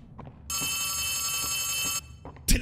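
A telephone bell in the Poppy Playtime horror game rings loudly for about a second and a half, a steady metallic trill, framed by faint background sounds and a brief burst of noise at the end.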